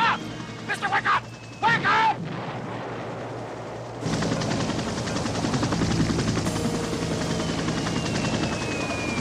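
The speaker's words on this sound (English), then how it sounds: "That's like a helicopter." A helicopter flying through a heavy storm, as a film sound effect: a loud, steady roar with a broad rushing wash that swells in after a few seconds of raised voices and keeps going to the end.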